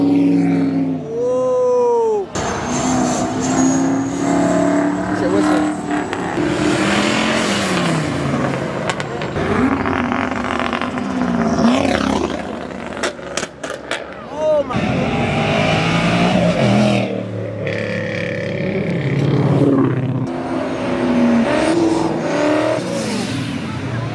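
A new Ford Mustang revs hard at Mustang Week 2023 among a noisy crowd, its engine roaring and surging repeatedly over constant cheering and shouting, with other cars rumbling nearby.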